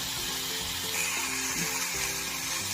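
Onions sizzle and crackle steadily in a hot pan for a green-chili chutney, a continuous close frying hiss with faint clinks underneath and no talking.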